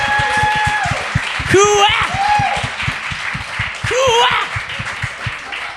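Steady clapping from a crowd fills the background while people cheer and a voice calls out over it.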